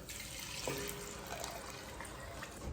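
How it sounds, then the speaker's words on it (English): Chicken broth poured into a soup pot for hatch green chile fideo soup, a steady splashing liquid stream heard close and continuous for a few seconds. "this is where we're gonna add 4 cups of chicken broth going in"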